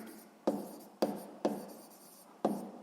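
Four quick, crisp strokes of a pen scratch across paper as physics exercise notes are written by hand, each one a sharp scrape that trails off, close and quiet with no talking.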